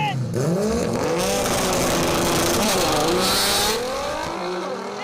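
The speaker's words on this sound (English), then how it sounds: "Time to do some drag racing." Honda Civic and Nissan GTR drag race cars launching side by side, loud engines rising in pitch through gear changes over about five seconds, with a commentator talking over the roar.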